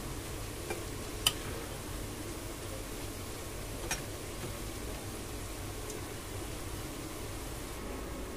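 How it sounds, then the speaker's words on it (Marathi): Onions fry in a pan for chicken biryani, giving a steady low sizzle with occasional soft stirring scrapes and a faint clink, continuous throughout at moderate level with no talking. "कांदा तळण्यासाठी खूप टाइम लागतोय."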